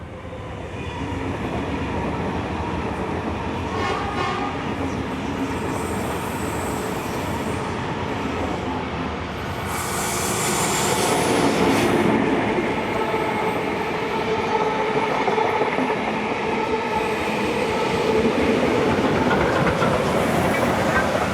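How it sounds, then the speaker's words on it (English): Heritage passenger train led by steam locomotive 4501 heading back to Sydney in New South Wales, a continuous loud rumble of wheels and carriages passing close by, with rhythmic clatter and a brief squeal. "4501 now leads the train back to Sydney"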